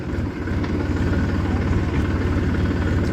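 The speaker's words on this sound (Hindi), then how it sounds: "ट्रैक्टर चलाते हो, वेरी गुड, आराम आराम से" A tractor engine runs steadily close by on a rural farm track, a continuous low idling rumble that holds even throughout with no pauses or revving.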